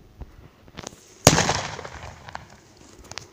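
A Bombbon firecracker goes off with one sharp, loud bang, followed by a short crackling decay and faint scattered pops, heard outdoors with no talking.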